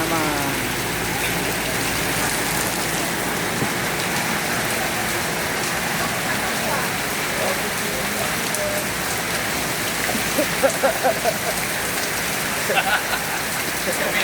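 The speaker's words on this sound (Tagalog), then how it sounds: "Maulan na" Steady rain falls throughout on a Tuesday, a dense, even hiss of drops on surfaces with a few brief louder patters near the end.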